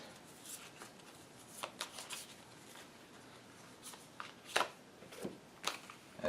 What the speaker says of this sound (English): I don't have any cards to draw from, so now I have to shuffle these.